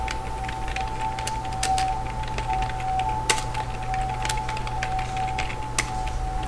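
Keys pressed on a computer keyboard while editing annotation text in drafting software: a few scattered clicks and taps over a steady background hum and tone, no speech.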